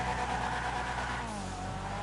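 A Hardy car driving in GTA 5 Online, a loud steady engine drone with a hint of tire noise that eases slightly over two seconds, no talking.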